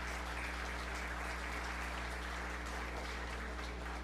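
Applause for 4-H kids at a county fair beef show fills a large space as a steady, diffuse patter of clapping over a constant low mechanical hum.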